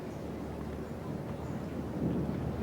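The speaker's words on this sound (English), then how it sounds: "We can hear the thunder rumbling in the background now." A low, distant rumble rolls continuously, swelling slightly toward the end, like thunder in the background with no talking.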